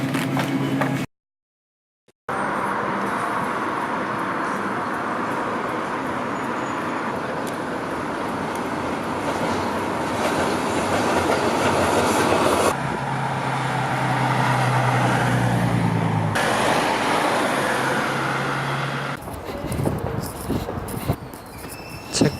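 Prague metro subway train running, a loud continuous rumble of wheels and motors with a rising whine and rattling, briefly cut out near the start, then shifting tone as the train moves.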